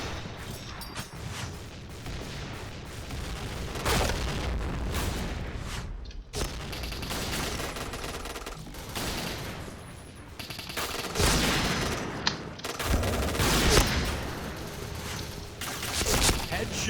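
HK-416 assault rifle firing at long range in the shooter game Point Blank, dense rapid bursts of gunfire with booming impacts, loud and continuous across the clip, with short gaps between volleys.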